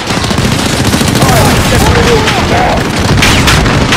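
Call of Duty Modern Warfare fire mission strike, a dense rumbling barrage of impacts and rattling gunfire, loud and continuous, with shouted voices mixed in.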